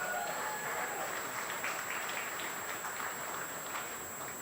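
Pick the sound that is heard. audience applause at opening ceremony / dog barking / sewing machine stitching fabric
audience applause at opening ceremony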